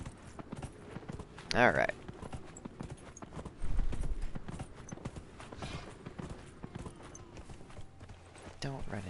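A horse gallops in Dragon Age Inquisition, its hooves drumming quickly and steadily beneath game effects while someone speaks briefly.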